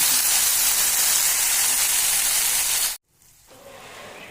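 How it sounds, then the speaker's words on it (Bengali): A paste of ginger, cumin and green chilli sautés in a hot pan with a loud, steady, close sizzling hiss that stops abruptly after about three seconds, leaving a faint background. "কিছুক্ষণ ভেজে নেবার পর তারপর দিয়ে দেব আদা, জিরা আর কাঁচা লঙ্কা বাটা। এইবার খুব ভালোভাবে কষিয়ে নেব।"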